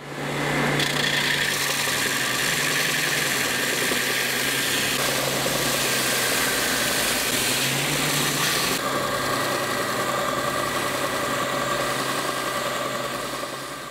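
A spindle sander runs steadily on guitar neck wood, a constant close motor whine with a bright grinding hiss that swells and eases as the workpiece is pressed against the spindle, with no talking.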